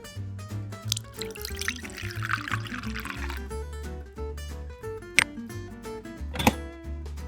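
Water pours and trickles into a miniature cooking pot in the background while music plays throughout, with a few small splashy bursts.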